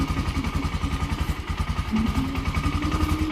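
A motorcycle engine cranks and catches when started through a horn relay fitted in place of a starter relay, settling into a rapid, even idle at close range.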